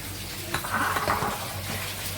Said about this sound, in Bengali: আলুর চপগুলো ভেজে নিচ্ছি